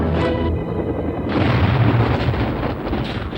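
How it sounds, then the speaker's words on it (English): A large movie explosion staged with miniatures delivers a deep, sustained roaring boom. It sounds loud and close, with a second surge of rumble midway, and no talk over it. "Some movie explosions are so enormous that there's only one way to pull them off"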